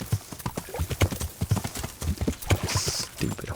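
Horse hooves clip-clopping in Kingdom Come: Deliverance, a steady rhythmic beat of hoofbeats up close, with a brief whinny and game sounds mixed in.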